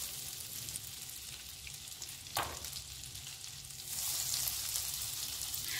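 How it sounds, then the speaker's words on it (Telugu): Whole spices (bay leaf, cinnamon, cloves and cardamom) frying in melted butter in a pan for leftover-rice tomato pulao give a steady, soft sizzle, with one brief clatter midway and a louder hiss near the end. "బటర్ మెల్ట్ అయిన తర్వాత దాంట్లో కొంచెం బిర్యానీ ఆకు దాల్చినచెక్క లవంగం యాలకులు ఇవన్నీ వేసి లైట్ గా ఫ్రై చేసుకోవాలి"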